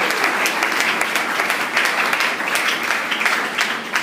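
A church congregation bursts into steady, dense applause for the Lord, many hands clapping together loudly and continuously with a faint crowd murmur underneath.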